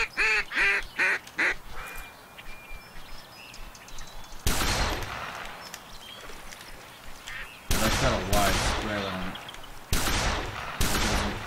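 Shotgun blasts from a camouflage gun in the Duck Dynasty hunting video game, several loud booming shots in separate bursts with quacking and honking duck and goose calls between them.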